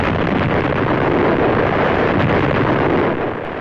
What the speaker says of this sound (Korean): 지금 보시는 이 영상은 인류 역사상 가장 강력한 핵무기로 꼽히는 차르본바 폭발 실험입니다